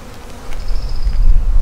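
Honeybees buzz around a beekeeper during a hive inspection, a steady close drone rising in loudness partway through, with a thin high whine running across the middle.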